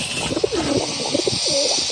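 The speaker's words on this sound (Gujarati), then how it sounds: "ઓલા સેટઅપ ઉપર એક કબૂતર બેઠું" A pigeon perched on a newly built pigeon setup on a farm gives several soft, low coos in a loose rhythm, fairly close, over a steady background hiss.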